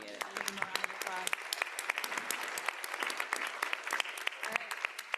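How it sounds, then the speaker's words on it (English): A conference audience gives a steady round of applause for the organizers, moderate and evenly spread, a continuous patter of many hands clapping throughout. "I'll give them a round of applause."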